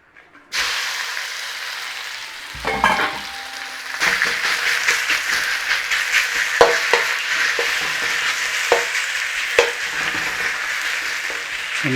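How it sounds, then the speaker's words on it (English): Beef sizzling in hot oil while being stir-fried for Cantonese beef chow fun, a steady close, bright frying hiss with scattered sharper crackles and the odd stir of the pan. "A nice little sizzle whizzle on that beef."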